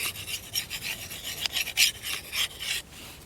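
Kershaw Camp10 knife edge sharpened coarsely on one side with rhythmic, rasping strokes against an abrasive stone, close up and brisk, about a dozen scraping passes with no talk.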